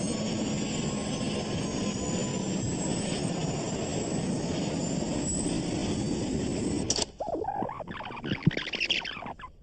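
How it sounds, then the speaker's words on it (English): Airbus A320 jet engines roar loudly and steadily with a rising whine as they accelerate during a crash, then the sound cuts off abruptly into rattling, crackling noise. "Video of the crash picked up the distinctive sound of the A320's engines accelerating."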